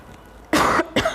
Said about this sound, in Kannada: ಕೆಮ್ಮು ಬರ್ತಾ ಇದೆ ನನಗೆ, ತುಂಬಾ ಕೆಮ್ಮು ಬರ್ತಾ ಇದೆ.